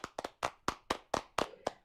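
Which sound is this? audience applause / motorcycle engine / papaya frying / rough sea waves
audience applause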